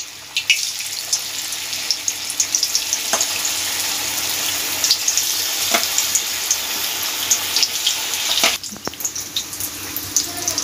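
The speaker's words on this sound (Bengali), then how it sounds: "এবার আঁচটা আমি ফুল দিয়ে দিয়েছি, দিয়ে ভালোভাবে ভেজে নিচ্ছি।" Cornflour-coated jackfruit pieces deep-frying in hot oil over a full flame, a loud continuous dense sizzle with scattered pops and an occasional utensil knock, steady throughout with no speech.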